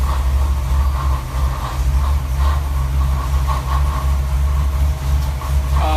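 A 408 stroker Ford V8 with AFR 205 CNC cylinder heads and a Holley High Ram intake runs on an engine dyno, a loud, steady, deep rumble holding even throughout with no talking.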